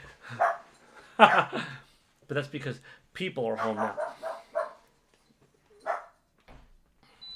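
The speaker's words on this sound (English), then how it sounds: "She's a good guard dog." A dog barks a few times around other household noise, with a person talking between and over the barks.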